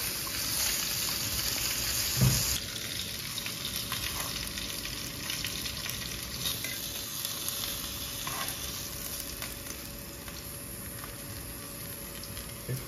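Fish frying in sesame oil in a home kitchen pan, a continuous close hiss of bubbling oil with a brief louder burst early on, then settling into a steady sizzle, no voices.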